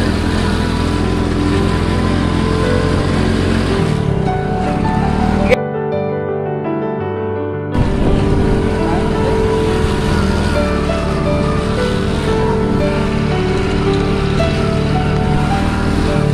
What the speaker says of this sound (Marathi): आता बघू शकता गाडीचा आवाज किती बदलला या. गाडी आता पूर्ण लोडवर आहे.